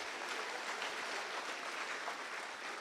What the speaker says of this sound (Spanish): Denle un aplauso o algo.